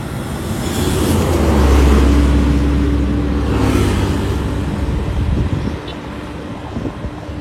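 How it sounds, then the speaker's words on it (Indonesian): A large bus roars past nearby on the Padang–Sicincin toll road in Indonesia, with a deep engine rumble and rushing wind, then fades into steady road noise. "Itu barusan bus yang mau ke Medan"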